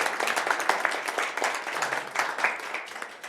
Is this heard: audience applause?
yes